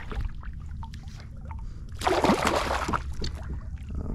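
A hooked trout thrashes at the surface during wade and kayak fishing, a loud burst of splashing in the middle of the clip set against lighter water movement before and after.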